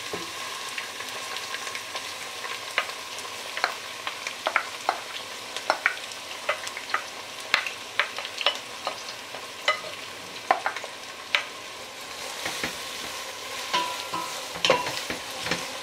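Chopped peppers and garlic sizzle steadily in a pan, with frequent sharp scraping and stirring clicks of a utensil over the continuous frying hiss; no voices.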